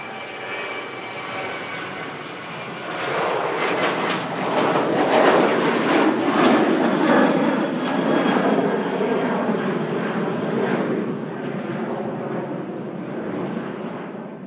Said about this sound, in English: We have an Aer Lingus 330 for the Big Apple, just push back as